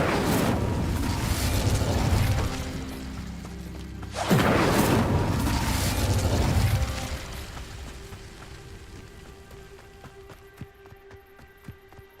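The Incendio fire spell is cast in Hogwarts Legacy: two loud, roaring whooshes of flame, each lasting a couple of seconds, then a fade into quieter game ambience with faint clicks.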